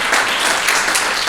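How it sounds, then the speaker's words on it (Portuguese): A church congregation applauds in a dense, steady wash of clapping that holds at an even, fairly loud level for the whole moment, with no voices rising above it. "Dê um aplauso a ele, aleluia!"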